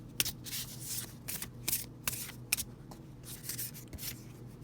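Tarot cards handled and drawn during a reading, with repeated crisp shuffling riffles and soft papery slides, close and fairly quiet, coming in irregular bursts.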